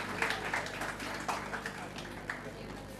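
An audience at a school prize ceremony for class 12 students applauds an award winner, a scattered, moderately loud patter of clapping that rises and fades over a few seconds, with faint background voices.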